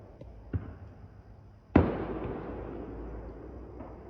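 New Year's fireworks go off around a neighborhood: a faint pop, then a single loud boom whose rumble rolls on and fades over several seconds.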